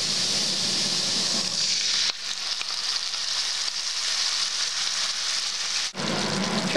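Masala paste frying in hot oil for a Bengali yellow peas curry, a steady, close, loud sizzle running without a break, briefly dipping and then flaring again near the end, with no talking.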